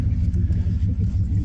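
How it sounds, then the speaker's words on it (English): Engine of a 1994 GMC truck running steadily just after starting, a close, low, even rumble with a faint rhythmic pulse and nothing else over it. "Truck cranks right up, runs great."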